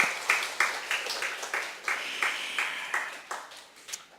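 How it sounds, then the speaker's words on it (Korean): A church congregation applauds during a Sunday morning worship service, a steady patter of many hands clapping at moderate volume throughout, with no talking over it. "우리 다시 한번 우리 박수로 환영하겠습니다."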